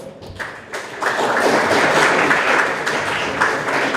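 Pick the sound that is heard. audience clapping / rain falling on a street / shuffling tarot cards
audience clapping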